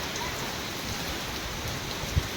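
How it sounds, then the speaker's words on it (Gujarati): A heavy downpour driven by strong wind lashes a rural yard where neem trees sway, making a dense, steady hiss of rain that stays constant throughout, with no one speaking. "પવન સાથે વરસાદ ધોધમાર વરસાદ"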